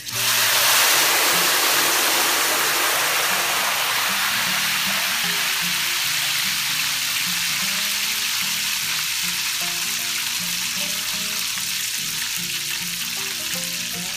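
Steady, loud sizzling and crackling of tempura batter frying in hot oil, a dense bubbling hiss that continues without pause and softens slightly toward the end.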